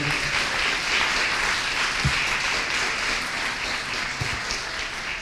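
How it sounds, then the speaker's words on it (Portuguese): A church congregation applauds steadily for several seconds during a Sunday service, a dense wash of clapping that stays even in loudness. "Vamos aplaudir a pastora Vanessa, né?"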